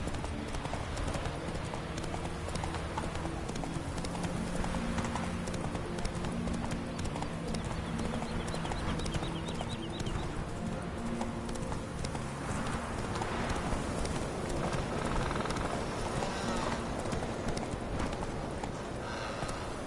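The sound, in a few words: horse hooves clip-clopping, Roach from a video game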